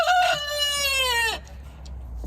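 A rooster named T-Bone in a backyard coop with a flock of laying hens lets out a single loud, close crow, followed by quieter clucks and faint movement.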